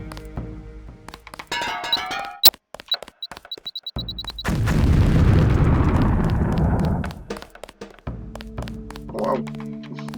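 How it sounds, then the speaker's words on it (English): A LAM mine detonates in Deus Ex during a training level, a loud broad blast that swells and rumbles for several seconds after clicks and beeps, with sparse scattered sounds before and after. "If you aren't close enough, the lamp will fall to the ground and detonate."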